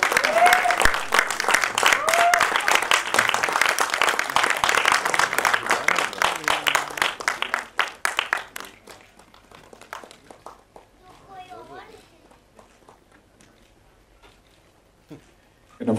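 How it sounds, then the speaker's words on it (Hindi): Audience at a film trailer launch applauds loudly for about eight seconds, the clapping thinning out and dying away into near quiet with scattered claps and faint voices. "तालियाँ और ज़्यादा भी हो सकती हैं।"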